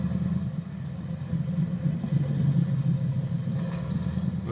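A radial engine runs steadily nearby with a deep, continuous low rumble and throb, holding a fairly even loudness throughout without speech.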